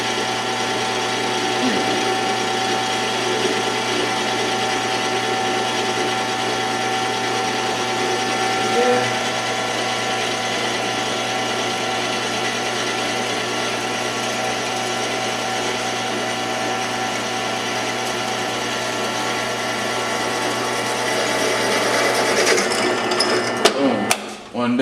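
A hand drill bores into a gasoline exhaust stack for a Chevy C10 truck, putting out a steady continuous whir and grind close up for most of the span, ending with a few sharp clatters.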